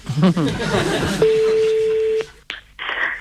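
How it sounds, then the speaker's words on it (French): A mobile phone number is dialed, giving a long steady tone and then short beeps after people talk in French. "On appelle mamie Dédé."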